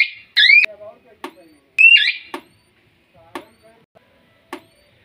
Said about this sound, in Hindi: अलार्म इसी तरीके से बजेगा।